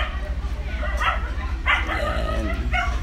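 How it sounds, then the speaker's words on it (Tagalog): A dog yips and barks in short bursts at a home garden, the sounds coming in quick clusters over a steady low hum, fairly close and moderately loud. "Maingay yung aso."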